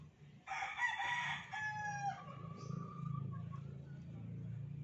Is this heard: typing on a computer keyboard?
no